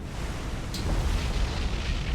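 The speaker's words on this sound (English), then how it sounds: "we've finished the episode on a beautiful magazine explosion from the Momi that also has cried Momi" A warship's magazine explodes in the War on the Sea naval video game, a dense, rumbling blast that stays loud and sustained, with a brief sharp crack near the start.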